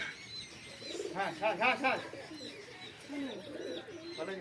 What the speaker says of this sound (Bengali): একজোড়া পায়রা নিয়ে এসেছি